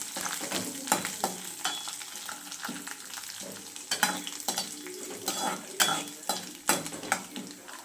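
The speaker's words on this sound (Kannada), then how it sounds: "ಕಡಲೆಬೇಳೆ ಸ್ವಲ್ಪ ಬ್ರೌನ್ ಕಲರ್ ಬರೋವರೆಗೂ ಹುರ್ಕೋಬೇಕು." Chana dal browning in hot oil in a pan, a soft sizzle under frequent sharp clinks and scrapes from stirring with a metal utensil, close by.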